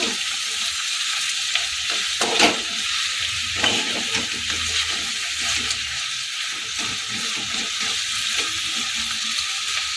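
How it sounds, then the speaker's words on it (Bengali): Onion stalks and potatoes fry in a pan under a constant close sizzle, broken by a few spatula scrapes and knocks while they are stirred, with no talking. "সবকে আবার ভালো করে মিশিয়ে দেব"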